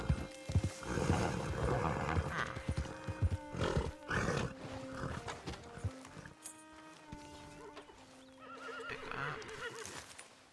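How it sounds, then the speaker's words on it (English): Tennessee Walker horse in the video game Red Dead Redemption 2 gives a loud, close whinny with hoofbeats clopping beneath, then trails into softer snorts and tonal neighing calls. "I don't think I've ever studied these horses. Tennessee Walker."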